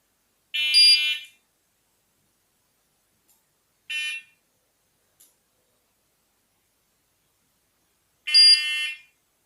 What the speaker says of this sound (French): Donc dès qu'on arrête un détecteur, il y a directement une alarme sur la centrale.